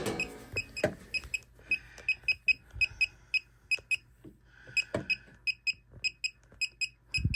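A KAIWEETS circuit breaker finder emits a rapid series of short, sharp electronic beeps in irregular bursts while tracing a breaker on a residential panel, loud and close with little else around.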